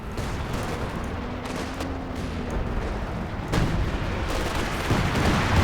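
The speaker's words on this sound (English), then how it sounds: "Another Katyusha barrage coming down into the middle." A Katyusha rocket barrage rains down in Company of Heroes 2, a dense rolling stream of booms and crackling impacts that swells louder toward the end, with distant battle noise underneath.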